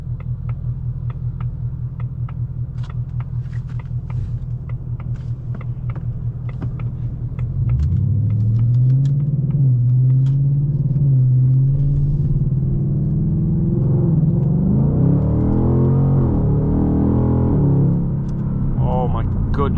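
A 2024 Ford Mustang GT Premium's V8 rumbles from inside the cabin on a test drive, a deep steady drone that swells louder and rises in pitch partway through as the engine revs harder, with some mechanical creaks.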